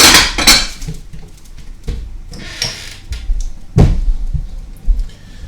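Spoon stirring a pot of tuna casserole with frozen peas, giving irregular metallic clanks and scrapes against the pot, fairly close and loud, with a few sharper knocks and no talking.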